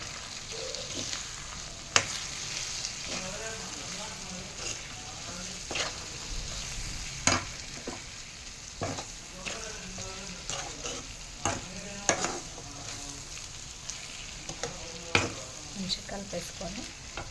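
Mutton kheema fries with salt, chili powder and coriander powder stirred in, a steady sizzle marked by repeated spoon scrapes and knocks against the pan. A voice speaks faintly now and then.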